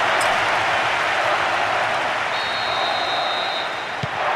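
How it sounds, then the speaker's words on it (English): Stadium crowd roar from the video game PES 2010 on PS2 during a UEFA Champions League match, a loud, dense, unbroken wash of cheering with a brief high whistle-like tone partway through. "There is nowhere quite like this for noise, the capacity crowd getting behind their team."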